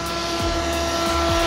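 A Cap 232 model airplane makes a fast, flat high-speed pass, its engine a steady, loud buzz that sweeps past with a clear pitch shift and no voices.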